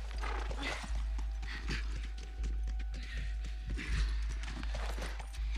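A horse's hooves clip-clopping at a steady walking pace in The Last of Us, close and continuous over a low background hum, with no talk.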